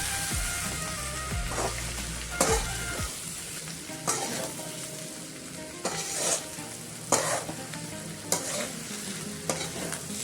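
Long beans and potato sabzi stirred and frying in a pan with coriander leaves, a steady sizzle broken by repeated scraping strokes of a spoon every second or so, close and fairly loud, no talking.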